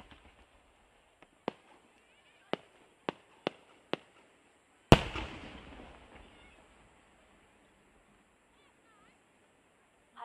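Japanese traditional No. 8 warimono firework shell at a fireworks festival in Fukuroi, Japan: several sharp distant pops, then one loud burst with a trailing rumbling crackle fading over a couple of seconds.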